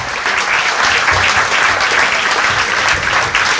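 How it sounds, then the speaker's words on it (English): Banquet crowd at a West Seattle gathering applauds IT staff, with dense, loud, continuous clapping from many hands sustained evenly throughout. "Please give them a round of applause."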